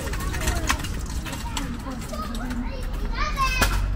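Children play and shout on a pedestrian street outside a university biology faculty, a lively continuous chatter of young voices near and far across the whole stretch.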